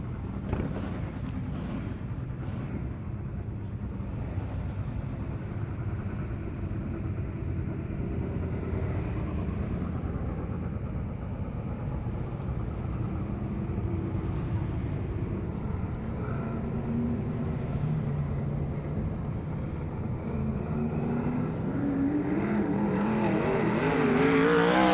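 Matt Anderson's number 16 sprint car runs at Beachlands Speedway during a 2023 Southern Sprint Car Series round, exiting turn 2 with a steady, distant engine roar that swells louder toward the end.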